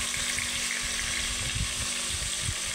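Onions and green chilies fry in a pan with a dense, continuous sizzle and crackle, close and fairly loud, with no talking.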